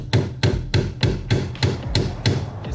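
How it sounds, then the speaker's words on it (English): A hammer striking a chisel against a coilover collar to tighten it, eight evenly spaced sharp metallic taps in a steady rhythm, close and clear with no talking. "So what I actually do is I just tap it with a hammer and a chisel."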